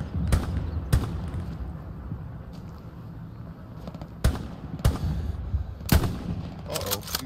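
Sharp, loud rifle cracks come in ones and pairs at uneven intervals in a Stalingrad battle in the WWII shooter Hell Let Loose, with quieter rumbling ambience and distant shots between them.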